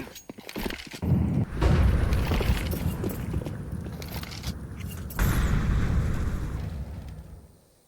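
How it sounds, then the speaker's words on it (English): Two grenades blow up in Counter-Strike on the Mirage map during a professional match, each a loud, rumbling burst that swells quickly, the second following about four seconds after the first, before the noise fades out. "Oh, double nades."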